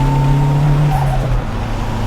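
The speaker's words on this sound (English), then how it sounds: "100 wheel horsepower on this high flow OEM turbo on this Starlet GT running gear" Toyota Starlet GT EP91 with a high-flow OEM turbo, engine droning loud and steady from inside the car while driving, a tonal hum that eases slightly near the end.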